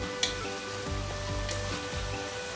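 Butter and white cheese melt in a hot pan with a steady, close sizzle that crackles throughout, and a few sharper spits and pops break through now and then.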